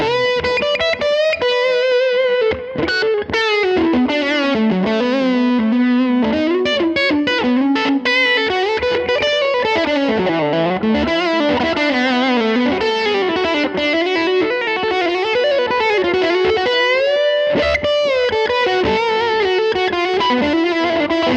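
An electric guitar played through a Line 6 Helix Tone Sovereign drive, giving a warm, lightly driven tone with singing sustained notes and melodic lead phrases, loud and continuous for the whole stretch with no voices.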